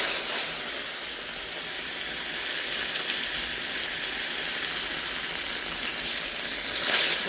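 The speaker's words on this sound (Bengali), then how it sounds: "কড়াইটা ভীষণ গরম হয়েছে, আমি মাছগুলো ভেজে নিই।" Rohu fish frying in a very hot wok gives a steady, dense hiss and sizzle that holds evenly close by, swelling slightly at the very end.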